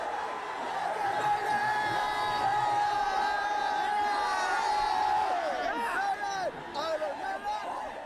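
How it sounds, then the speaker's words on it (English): Roaring crowd of about 30,000 Indian metal fans at a concert in India, a dense, loud continuous wash of cheering, shouting and whoops throughout, with voices mixed into the din. "I don't think you'll hear a louder crowd anywhere in the world"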